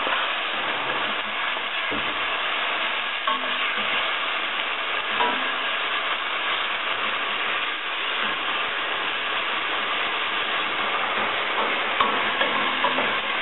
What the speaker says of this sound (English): And you let it fry for 3-4 minutes or until the onion is golden.